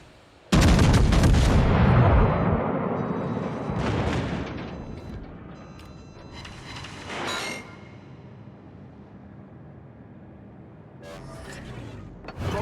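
Warship guns fire in the World of Warships video game: a loud booming salvo at the start, further heavy shots around four and seven seconds, and a fainter blast near the end, each leaving rumbling decay.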